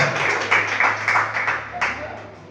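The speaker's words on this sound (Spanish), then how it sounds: "A ver, vamos a escuchar esas palmas para el Señor" Church congregation clapping hands in rhythmic bursts during a Spanish-language worship service, a steady beat of palms under a low hum, moderately loud and fairly close.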